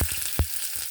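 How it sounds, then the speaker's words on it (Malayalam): Shallots frying in coconut oil in a pan, a steady close sizzle with a few sharper crackling pops standing out over the continuous hiss. "കുറച്ച് വെളിച്ചെണ്ണ ഒഴിച്ചിട്ട് ഉള്ളി എണ്ണ വറുത്തിടാം."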